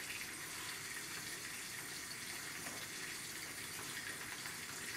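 Water pours steadily into a cooking pot while making smoked-meat borș, a continuous close gushing splash with no pauses.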